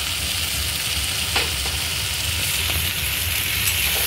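Young jackfruit pieces fry in hot oil in a pan, a loud, continuous sizzle with faint stirring scrapes throughout.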